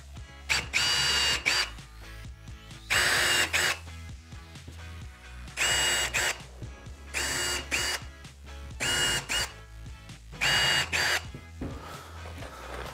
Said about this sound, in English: Grab your drill, get a couple of pilot holes done.